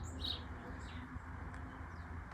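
Birds in a Texas backyard with a feeder and small pond, including a mockingbird: faint, short chirps and tweets over a constant low outdoor hum, distant and sparse.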